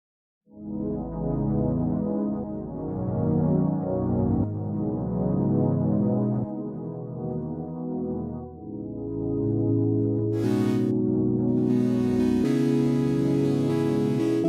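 A dark, sustained synthesizer pad swells in and drones with slowly shifting low chords, later joined by a brighter airy layer on top.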